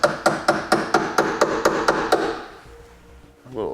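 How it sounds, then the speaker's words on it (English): A hammer tapping a Curt trailer hitch U-bolt onto the rear recovery hook of a 2010 Honda Accord, about ten sharp metallic strikes in a steady rhythm, followed by a brief quiet moment and a faint scrape. "May have to tap it on with a hammer."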